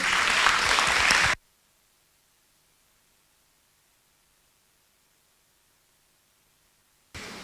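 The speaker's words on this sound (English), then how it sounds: "Clapping will be tolerated." Delegates at a Model United Nations conference applaud after a resolution passes, a loud burst of clapping for about a second that cuts off abruptly into silence, then resumes briefly at the end.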